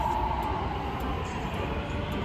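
Inside a moving subway train, a steady low rumble of wheels and carriage fills the ride, with a faint tone above it and no speech.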